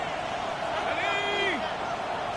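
A football stadium crowd on third down keeps up a steady, loud roar, with a brief rising whistle-like tone cutting through the middle.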